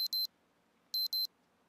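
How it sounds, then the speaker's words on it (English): An alarm sounds in loud, high electronic beeps in pairs, two quick double beeps separated by a short gap, sharp and close with near silence between. "My alarm just went off."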